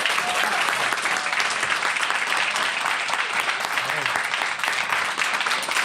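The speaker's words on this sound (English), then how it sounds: "Everyone, please give him a round of applause." A live podcast recording audience gives Jabari Hart a round of applause: dense, loud, continuous clapping fills the room evenly from start to finish with no voices on top.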